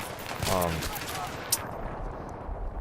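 An M16A3 rifle firing full auto in Battlefield 3, a short rapid burst early on with a single sharper report after, set against game background noise and a voice.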